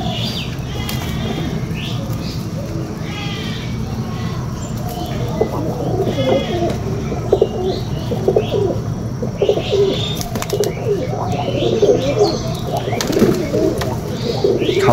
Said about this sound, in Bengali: দেখতে পাচ্ছেন কোথা থেকে তিনটে গোলা পায়রার বাচ্চা আমার বাড়িতে এসছে